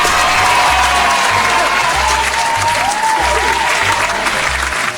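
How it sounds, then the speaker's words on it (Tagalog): An audience claps and cheers at an indoor sharing session, a steady burst of applause filling the whole stretch, close and loud. "Palakpak."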